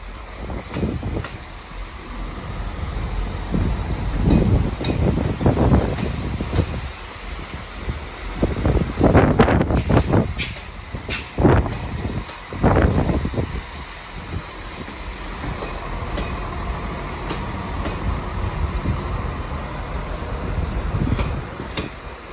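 An Irish Rail train, unit 22243, arrives at platform 3 in Dublin Heuston station, rumbling and clunking under steady wind noise, with several sharp rail knocks and squeals as it rolls in.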